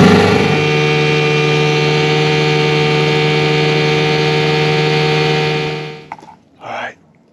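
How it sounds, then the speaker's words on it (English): An outboard boat motor runs steadily and loud at close range, a constant droning hum with engine harmonics, then cuts off near the end, leaving a couple of brief knocks and a short burst of noise. "And we got a boat motor. Good to go."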